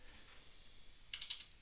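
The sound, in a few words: typing a number on a computer keyboard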